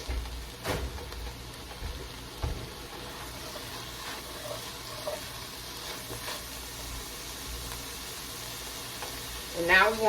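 Ground beef sizzles steadily in a goulash pot, with a soft continuous frying hiss, a few stirring knocks and scrapes, and a brief voice near the end.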